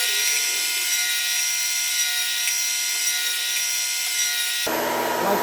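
A planer flattens a glued wooden ring for a segmented bowl, giving a loud, continuous, close-up machine roar with the cutting noise steady throughout, then shifting abruptly just before the end.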